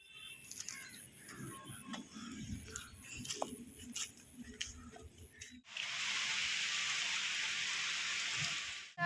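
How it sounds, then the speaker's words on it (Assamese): Rain falls outdoors on a walk, first as scattered patter mixed with clicking and rustling, then as a dense, even hiss of rain in the second half. "বৰষুণ দি দিলে ঘৰৰ পৰা ওলাই আহোঁতে এতিয়া বৰষুণতে গৈ আছোঁ"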